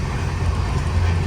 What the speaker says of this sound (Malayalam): ട്രെയിൻ ഇപ്പോൾ 130 km/h സ്പീഡിൻ്റെ അടുത്താണ് പോയിക്കൊണ്ടിരിക്കുന്നത്.